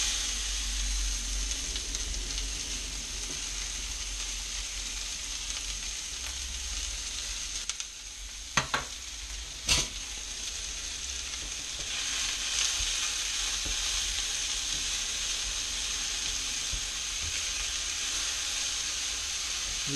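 Onions fry in a pan for an Indian bhuna masala, producing a loud continuous hiss and sizzle with a couple of sharp clicks or pops near the middle and a low hum underneath.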